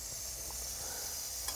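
Steam purging from the wand of a Bellman stovetop milk steamer, a continuous bright hiss holding steady throughout, fairly loud and alone with no voices.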